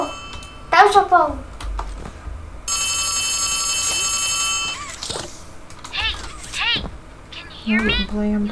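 A telephone rings inside the video game Poppy Playtime Chapter 3, a sustained electronic bell tone lasting a couple of seconds amid game sounds, with a person talking before and after.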